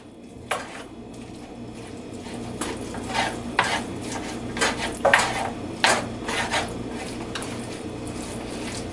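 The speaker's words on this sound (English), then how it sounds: "So the onion is soft and the bacon is beginning to brown" Onion and bacon frying in a pan, the onion soft and the bacon slow to brown: steady sizzle close by with repeated scraping stirs and light clinks of a utensil against the pan, no voices.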